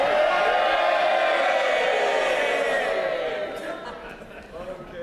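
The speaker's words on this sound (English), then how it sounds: "This is the moment for cheering." MPs in the House of Commons cheer as a dense, roaring mass of voices fills the chamber, loud and sustained before easing off slightly toward the end.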